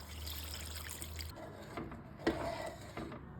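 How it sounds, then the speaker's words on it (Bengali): Water is poured into a pan of spiced egg curry masala, a close trickling pour with splashy drips that eases off into quieter dribbles. "মশলাটা কষানো হয়ে গেছে, এখন আমি এর মধ্যে জল দেব।"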